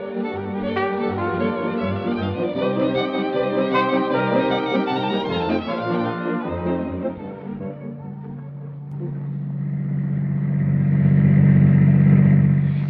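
A car engine hums in a 1937 radio drama, entering as a low drone after a stretch of orchestral music and swelling louder toward the end.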